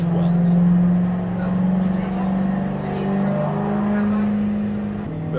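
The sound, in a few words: turbo V8 FC RX7 engine pulling on a dyno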